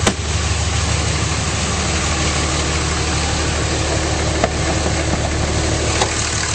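A 2006 Dodge Ram 3500 truck engine idles steadily and close, a constant low rumbling drone without pauses.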